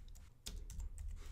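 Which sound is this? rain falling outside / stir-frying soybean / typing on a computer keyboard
typing on a computer keyboard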